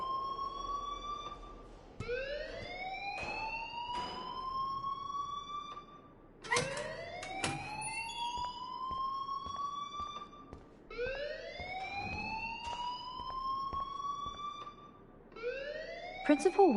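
Alarm ringing in the video game Life Is Strange, a school setting: a rising, wailing electronic tone repeating every few seconds in loud sweeping cycles, with faint background clatter.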